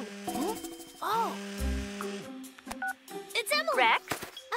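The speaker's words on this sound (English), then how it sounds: "Oh, Rex, you should check your phone!" A phone in a dinosaur cartoon rings with warbling, chirpy electronic tones that rise and fall in short bursts, mixed with character voices and effects.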